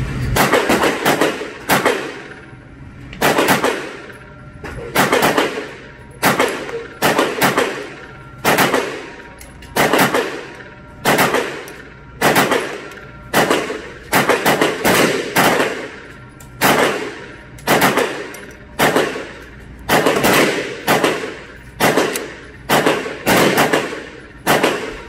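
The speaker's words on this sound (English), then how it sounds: "I put 115 rounds in the bottom target and 35 rounds in the top target." A Bul Armory SAS II Viper pistol fired at steel targets outdoors, loud sharp shots in rapid strings and bursts separated by short pauses, repeating through the whole stretch.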